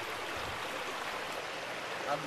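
Water flows steadily down into a sinkhole outdoors, making a continuous soft rushing wash at moderate distance, with faint low background noise and no clear talk.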